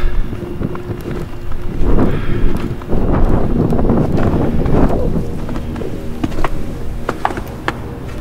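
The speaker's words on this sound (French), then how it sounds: "Il y a un petit vent sympathique là." Strong wind buffets the microphone in a steady low roar outside a former prison in Scotland, gusting louder in the middle with scattered rattles and knocks.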